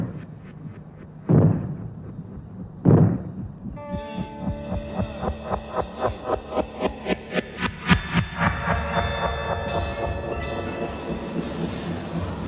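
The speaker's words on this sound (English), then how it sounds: "When fallout is expected, you will hear 3 bangs in short succession" Sharp, loud bangs of a fallout warning signal ring out with short gaps between them, followed by a steady rhythmic chugging pulse that continues to the end.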